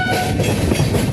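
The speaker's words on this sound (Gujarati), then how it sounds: "આપડી ટ્રેન" A long double-decker train rolling past close by, a loud steady rumble with clattering wheels on the rails and no talking.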